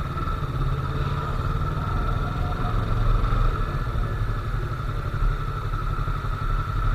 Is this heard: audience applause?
no